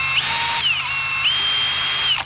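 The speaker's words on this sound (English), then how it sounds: "We got the handy dandy drill." A cordless drill whines at high pitch while wet sanding a car headlight, its speed rising and falling in a couple of sustained bursts, loud and close.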